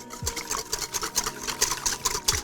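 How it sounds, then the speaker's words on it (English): Rapid whisking of garlic, pepper and seasoned salt in a bowl for southern baked mac and cheese, a fast continuous rhythm of close, moderately loud clicks and swishes without speech. "Now let's whisk that up."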